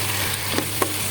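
Vegetables in tomato sauce being stirred in a frying pan, with a steady sizzle and a few soft scraping strokes, close and brief.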